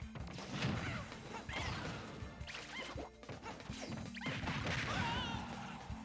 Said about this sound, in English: Diddy Kong keeps landing all these up smashes, but they're not killing Pit